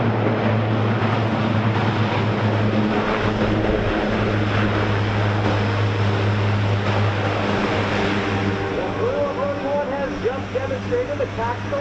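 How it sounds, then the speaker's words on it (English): A Lockheed C-130J military transport aircraft roars through a tactical assault landing at a Rhode Island air show, a loud, sustained propeller drone heard from a distance with a wavering tone and crowd or announcer noise beneath it. "Demonstrated the tactical assault landing capability of the C-130J"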